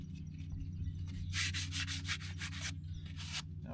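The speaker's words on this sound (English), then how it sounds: "So I'm just going to scuff that up a little bit." A painted part of a Caterpillar D4600 engine is scuffed by hand before repainting, with short rasping strokes that swell into a louder burst of rubbing over a low steady hum.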